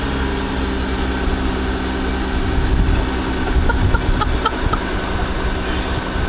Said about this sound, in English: we're gonna give you guys a nice little startup from the outside. Few little revs.